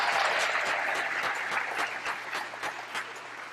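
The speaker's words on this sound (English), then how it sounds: "Let's give them a round of applause." An audience at a Lions Club minstrel show gives a round of applause, a dense burst of clapping with a few sharp individual claps standing out, heard close and steady throughout.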